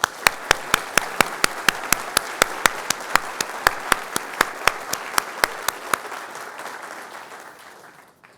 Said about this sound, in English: I'd like you to all give these three history makers a round of applause.